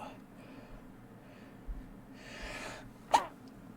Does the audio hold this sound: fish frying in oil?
no